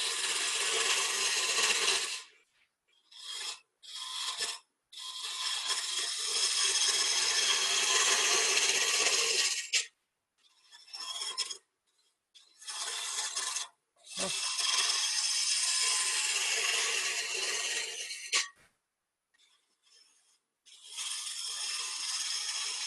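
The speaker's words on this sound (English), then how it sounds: "I'm going to use the roughing gouge" Roughing gouge cutting a spinning wood blank on a lathe, a loud, steady scraping roar in long bursts broken by short pauses as the tool is lifted and reapplied, with no talking.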